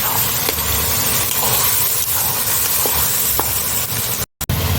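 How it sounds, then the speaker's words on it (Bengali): Tomatoes frying for kosha mangsho in a pan, a loud steady sizzle with occasional faint spatula taps, cutting briefly to silence near the end. "টমেটো দিয়ে দেবো এর মধ্যে, দিয়ে সব ভালো করে কষাবো।"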